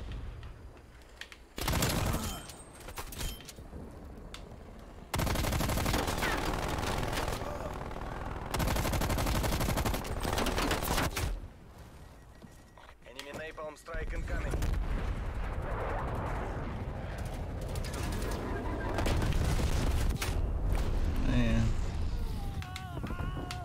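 Enemy sentry turrets firing in a shooter video game, heavy sustained bursts of automatic gunfire and booming impacts in long stretches, with brief lulls and a voice talking in places.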